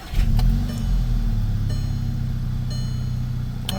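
VW Jetta engine idling while warming up, a steady low rumble close by with a slight rev at the start, then settling into an even idle with no talk.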